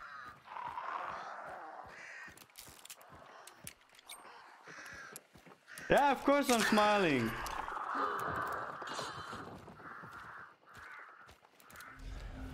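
Crows caw in a shooting video game, a burst of harsh calls in the middle amid rustling game sounds and scattered clicks, with someone talking over parts of it.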